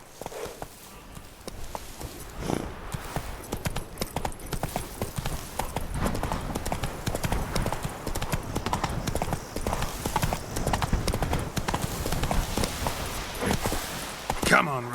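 Roach the horse gallops in The Witcher 3, and the hooves beat fast and rhythmic at close range throughout, with a voice speaking over them.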